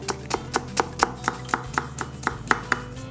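Carrot is sliced into thin strips on a cutting board, about a dozen crisp, evenly spaced knife chops in a quick steady rhythm, close and clear with no speech.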